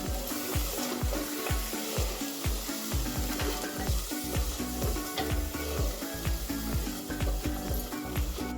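Tomato puree and ginger-garlic paste sizzle in a pot while being stirred for a clay-pot biryani, with steady frying hiss and rhythmic scraping strokes of a spoon throughout.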